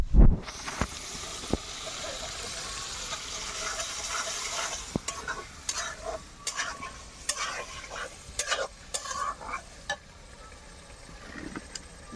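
Masala being cooked down with water in a pan for a fish curry: a hissing sizzle at first, then a spatula scraping and knocking in irregular strokes that grow more frequent while the fry quiets; no voices.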